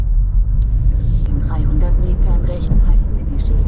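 Inside a 2025 Skoda Kamiq with the 1.5 TSI engine as it pulls away, a steady low cabin rumble and road hum underneath a person talking throughout.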